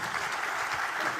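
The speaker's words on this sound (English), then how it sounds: "Let's give them one more round of applause." An audience applauds at a national launch event addressed by the Kenyan president, a dense, even patter of many clapping hands, loud and close, with no break.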